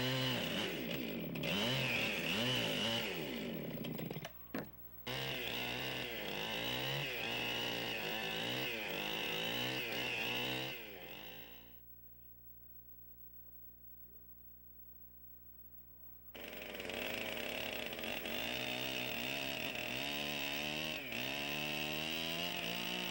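A chainsaw cuts a saddle notch into a log for a log cabin, its engine revving and bogging close by, then dropping to idle for several seconds before roaring back into the cut.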